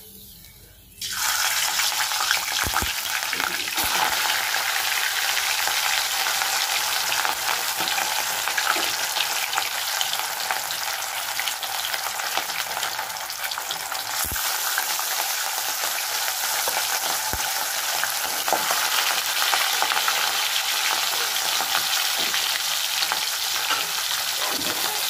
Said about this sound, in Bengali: এই তেলটা ভালো করে গরম করে নেবো। আমি কিন্তু মাছে হলুদ লাগাইনি, আমি নুন দিয়েই মাছটা ভাজবো।